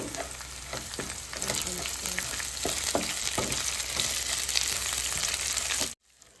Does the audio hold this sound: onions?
yes